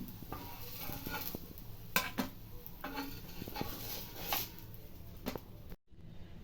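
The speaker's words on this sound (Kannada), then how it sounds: "ಈ ಸೈಡು ಸ್ವಲ್ಪ ಬೇಯಬೇಕು ಇವೆರಡು ಸೈಡ್ ಬೆಂದಿದೆ ತೆಗಿತಾ ಇದ್ದೀನಿ" Fried raw banana and potato cutlets lifted from a pan: faint clinks and scrapes of a metal utensil against the pan over a soft sizzle, irregular and quiet, ending in a brief drop to silence.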